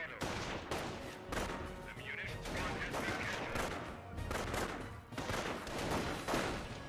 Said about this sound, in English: Panzer Grenadiers taking a bit of fire now.